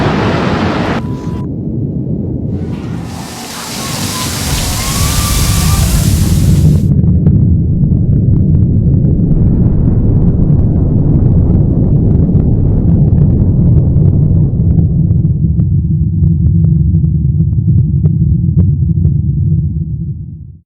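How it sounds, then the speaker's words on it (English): A massive explosion at the World Trade Center on September 11 roars into a long, heavy rumble of debris coming down, loud and close, with wind buffeting the microphone throughout. "A huge explosion now raining debris on all of us."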